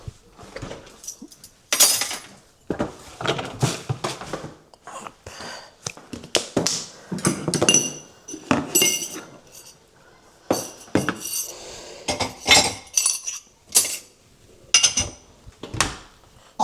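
Dirty spoons clink and tap together as furniture is cleared during a big household cleanup: an irregular run of light, close metallic clinks with brief pauses between them.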